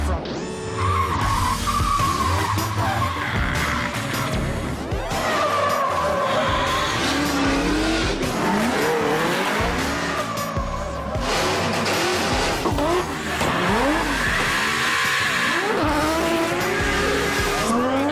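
Drift cars on a downtown Auckland waterfront course at the Red Bull Drift Shifters event, loud engines revving over long, sustained tire squeals and skids that rise and fall continuously, with a faint voice underneath.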